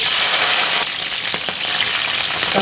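Korameenu fish fries in hot oil for an Andhra-style curry, a dense, loud sizzle crackling steadily with no voices.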